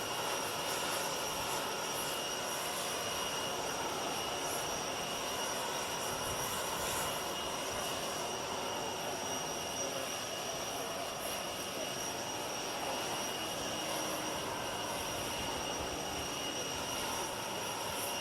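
Steady, loud roar of an airplane's engine running on the runway, a constant broadband drone with a high whine on top, no speech.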